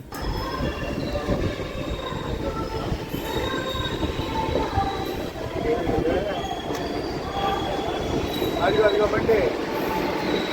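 A MEMU passenger train pulling into Nellore station, its wheels squealing and rumbling steadily close by, with high metallic screeches rising near the end as it slows alongside the platform.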